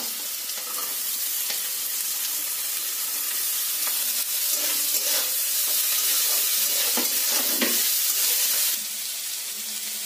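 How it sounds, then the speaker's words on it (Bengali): Eggs with chopped carrot frying in a pan, giving a loud, dense and continuous sizzle with a few scattered stirring clicks, close up with no voices. "ডিমগুলো ভাজা ভাজা হয়ে গিয়েছে, এবার এতে দিয়ে দেবো গাজর কুচুনো"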